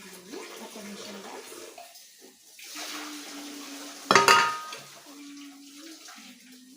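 Water runs and splashes as a newly bought household item is washed in a sink, with intermittent tap flow, a sharp clatter midway, and someone speaking over parts of it.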